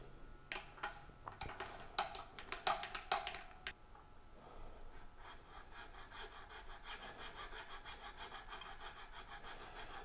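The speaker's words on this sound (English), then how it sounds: "I'm going to take the file, and I'm going to file it down" Hand file rasping back and forth in the nut slot of an electric guitar, a burst of short, close scraping strokes followed by a steadier, softer rubbing.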